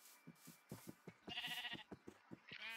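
Sheep bleating in the Minecraft video game, a few short wavering game bleats standing out over a quieter stretch of small soft taps and footstep-like game sounds.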